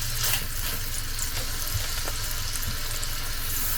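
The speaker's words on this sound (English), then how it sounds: "So I'm going to grab one ball, we're going to put it in the pan, and we're going to give it a nice squeeze down" A flattened turkey apple sausage patty fries in hot oil in a pan, giving a dense, even sizzle at close range throughout, with faint kitchen clatter and no talking.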